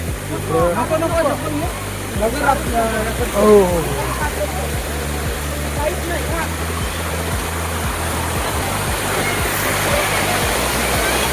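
The waterfall at Prabalgad, low on water, gives a continuous broad rush throughout with birdsong early on, and people talk over it now and then.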